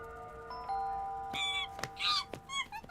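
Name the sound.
door bell ringing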